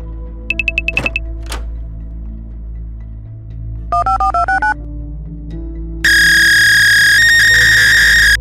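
A phone in the Roblox game Brookhaven plays a quick string of beeping dial tones, then a pair of repeated electronic chirps, followed by a loud steady ringtone, all clear and close with no talk.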